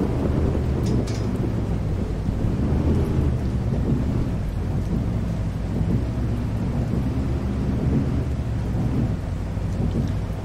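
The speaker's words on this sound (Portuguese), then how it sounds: "Aquilo deixa o clima chuva ainda mais da hora, mano." Steady heavy rain with rolling thunder from the video game Proton Bus Simulator forms a dense, constant roar with low rumbling swells throughout and no voices.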